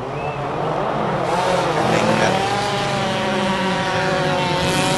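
A race car with a 1.6-litre four-cylinder Ford Duratec engine runs at a hillclimb, its steady engine note droning and rising slightly as it passes at moderate distance.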